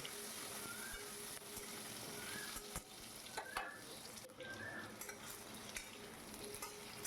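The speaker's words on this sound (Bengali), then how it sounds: "আলুটাকে সুন্দর করে একটু ভেজে নিতে হবে" Diced potatoes fry in a pan while being stirred, giving a steady close sizzle with occasional scraping clicks of a spatula throughout.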